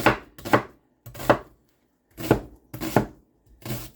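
An onion is cut into chunks on a board: seven sharp, separate knife chops in an uneven rhythm, each with a short thud and brief quiet gaps between them.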